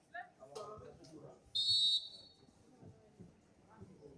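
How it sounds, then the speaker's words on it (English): An umpire's whistle at a boys' field hockey tournament match gives one sharp, shrill blast of about half a second, standing out loudly amid a commentator's speech before and after. "Loud shrill of the whistle there from the umpire."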